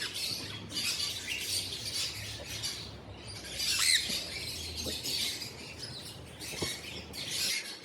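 A breeder pair of sun conure parrots gives harsh, shrill squawks and chattering calls that repeat in bursts throughout, close and fairly loud, with a low hum underneath.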